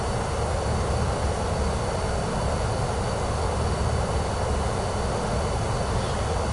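A Beechcraft King Air's engines drone in Microsoft Flight Simulator 2024, a steady, even roar from the cabin that holds unchanged throughout, with no talk.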